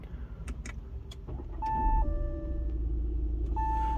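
A car engine cranks and catches, rising into a steady idle rumble, with a couple of electronic beeps over the running engine.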